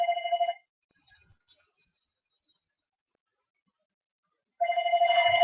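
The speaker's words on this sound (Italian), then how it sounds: "Un telefono, non so chi sia, spero che rispondano dall'altro lato." A telephone rings during a live stream, with two short bursts of a steady, clear electronic tone separated by several seconds of near silence. No one talks during the rings.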